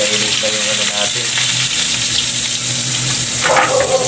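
Garlic and onions frying in a hot pan for a Filipino home-cooked dinner, a loud, close, continuous sizzle with bubbling crackle and a brief stir or clatter near the end.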